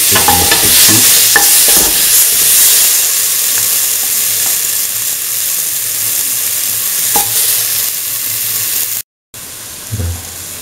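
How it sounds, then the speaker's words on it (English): A mint coconut dip with mustard seeds is stirred in a pan, giving a sizzling hiss with scraping stirs and small clinks, loud and close, with a short break near the end. "Mix thoroughly with the mustard seeds."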